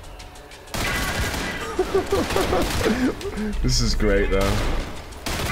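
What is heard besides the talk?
gunfire in the video game Trepang 2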